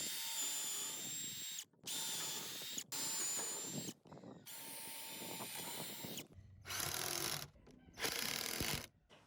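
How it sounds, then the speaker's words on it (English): A power drill pre-drilling holes in wood for a raised garden bed whines loudly in several bursts of a few seconds each, its pitch shifting as it bites, with brief pauses between runs. "we're going to pre-drill 4 holes in here and then put our screws in."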